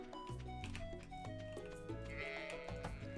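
Farm animals bleat in the Stardew Valley video game, a few sheep- or goat-like calls set against a busy, steady run of game music and sounds, heard faintly overall.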